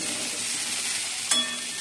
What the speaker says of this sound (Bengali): উচ্ছে আর কুমড়ো ভাজা বসিয়ে দিয়েছি